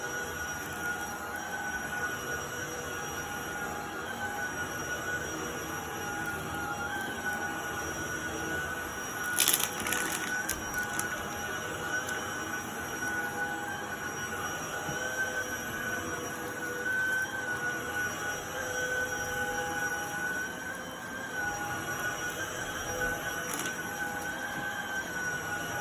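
A Shark Ion P50 cordless vacuum runs with a steady, fairly quiet motor hum and a faint high whine. A brief clatter comes partway through, and no one speaks.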